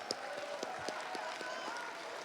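Scattered crowd applause for SK Gaming at a StarSeries i-League Season 5 Finals Counter-Strike match, heard as sparse, irregular claps under ongoing talk.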